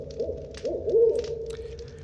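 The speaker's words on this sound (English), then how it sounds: "The owl's noise gets louder" Owl hooting in repeated rising-and-falling calls, fairly loud and growing stronger, set against a steady low hum with no speech.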